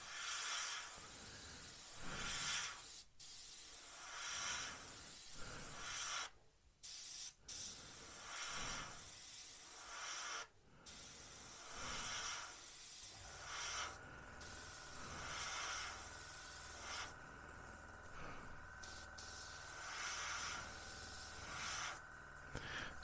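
An airbrush hisses paint onto a 1/48 Revell PBY-5 Catalina model in RAF 210 Squadron scheme, short soft bursts of spray repeating with brief pauses between them, close and quiet.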